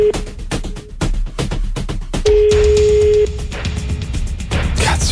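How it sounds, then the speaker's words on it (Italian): A telephone rings unanswered: steady electronic ring tones and a long held beep, heard over dense clicking, crackling radio-studio noise. "Degli squilli a vuoto."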